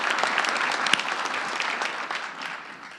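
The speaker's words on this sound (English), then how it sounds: "We'll violate our no clapping rule." A town meeting audience claps steadily in a large hall, a dense, moderately loud applause that holds throughout and fades slightly toward the end.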